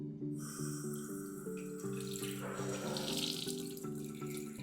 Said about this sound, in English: I'll turn the tap on, and we'll mimic as if this is seeing a leak.